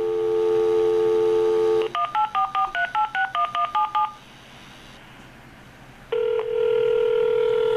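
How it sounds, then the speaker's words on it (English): A landline phone number being dialed: a steady dial tone, then a quick run of about eleven touch-tone beeps, a short quiet gap, and the tone returning, loud and close. "Let me give them a call back."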